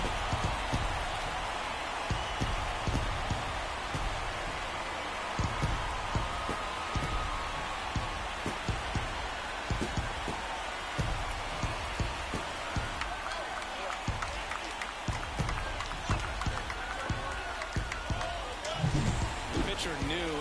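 A stadium crowd in the baseball video game MLB The Show 24 cheers and roars steadily after a game-tying home run, with bursts of clapping throughout and a commentator's voice talking over it.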